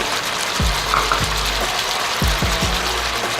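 Red onion dropped into a pan with Thai curry paste hisses in a steady sizzle, broken by a few low thumps and clunks of the pan and utensils, close and fairly loud.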